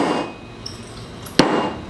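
A single sharp hammer strike seats a dust seal into the fork tube of a 2019 Harley-Davidson M8 FXLR, a close metallic whack standing out above a quiet workshop background.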